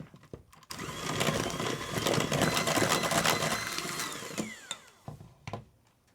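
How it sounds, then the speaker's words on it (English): An electric mixer whirs steadily for about four seconds, mashing bananas for sourdough banana bread, with a rattling, clattering texture from the bowl and quieter taps as it starts and stops. "I'll just continue mixing until they're nice and mushy."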